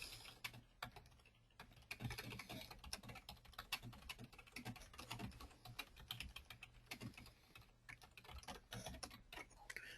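Clicky, uneven typing on a computer keyboard during a sales training call, with rapid key taps and pauses over a steady low background hum, fairly close and moderately quiet.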